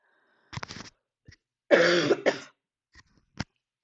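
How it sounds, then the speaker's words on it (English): A few harsh coughs in quick bursts, close and fairly loud, with a throat clear and short quiet gaps between them. "I sound better, but I'm still coughing"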